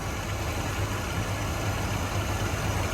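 A 1980 Chevrolet Corvette with 56,000 original miles idles smoothly, its engine giving a steady, even low rumble that holds without change throughout, close by and with no talking.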